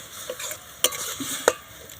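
Carrots being stirred in a kadai, a soft scraping stir with a couple of sharp clinks of the spoon against the pan over a faint sizzle.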